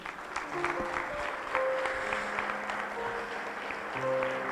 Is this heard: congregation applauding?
yes